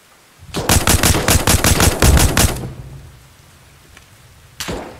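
Automatic gunfire in the military shooter ARMA Reforger, a loud rapid burst of about a dozen shots lasting two seconds, a fading echo, then one more distant shot.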